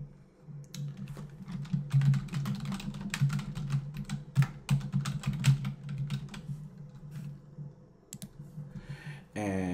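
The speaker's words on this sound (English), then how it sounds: "And now I'm going to type into the search field." Rapid typing on a computer keyboard, entering text into a search field, a steady run of close, crisp key clicks over a low background hum, ending in a short burst of a different sound.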